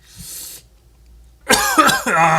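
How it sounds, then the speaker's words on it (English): A person coughing during a drinking-game podcast: a faint breathy sound, a short pause, then a loud, close burst of harsh coughs, with no speech. "I coughed."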